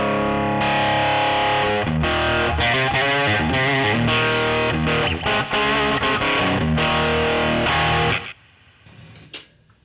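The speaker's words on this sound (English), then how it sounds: "I've got one distortion patch in there, and I generally have that mixed back if I want to have a distortion sound" Heavily distorted electric guitar through a pedalboard distortion patch plays sustained chords and riffs, loud and thick, then cuts off and rings out briefly near the end.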